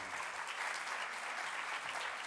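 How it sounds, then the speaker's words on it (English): A conference audience applauds a presentation at a sustainable infrastructure event, a brief, even wash of many hands clapping at moderate distance. "Let's give one more applause to Leza for the nice presentation."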